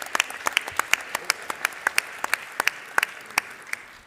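Audience applause at a Wingly prize-giving during a French federation's general assembly: a modest, fairly distant round of clapping with individual sharp claps clearly audible over a soft bed, continuing steadily throughout.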